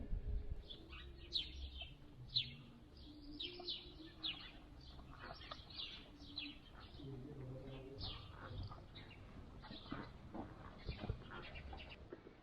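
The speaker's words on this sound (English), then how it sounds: "the only sound I hear are birds chirping" Birds chirp and tweet in scattered calls throughout, with soft cooing beneath and faint background voices.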